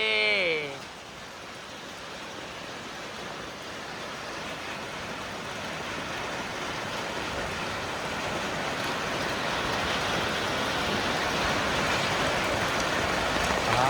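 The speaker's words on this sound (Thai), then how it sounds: "ฝนตกแล้วดีใจดี" Steady rain pouring down outdoors near rice fields and bamboo groves, a dense continuous hiss that grows gradually heavier, with a brief voice and some tonal sounds at the very start.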